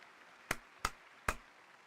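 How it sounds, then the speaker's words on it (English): Three sharp, isolated hand claps of applause at an uneven pace, close by and fairly quiet, with no voices. "I'm still applauding"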